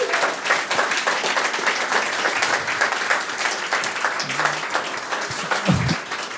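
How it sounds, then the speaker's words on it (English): An event audience gives a round of applause for the speakers at a B2B SaaS marketing gathering, a full, continuous burst of clapping close by that stays loud throughout. "Do we have a round of applause for the speakers"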